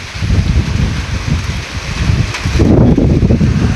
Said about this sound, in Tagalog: Malakas-lakas na po yung hangin mga kasuelo.